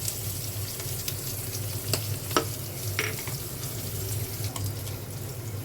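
Hot dogs sizzle steadily in a pan for fried rice, close and continuous, as a spatula scrapes and stirs with several sharp clacks against the metal.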